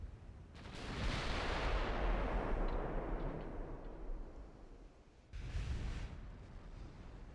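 Heavy naval artillery fire in the warship game Ultimate Admiral: Dreadnoughts, a deep rumbling boom swelling and fading over several seconds, then a second thudding salvo near the end.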